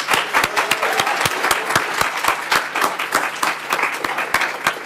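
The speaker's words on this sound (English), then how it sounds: "Please join me in another round of applause for all the readers tonight." An audience at a literary translation reading at a book festival applauds the readers, a sustained round of dense, close clapping with no voices over it.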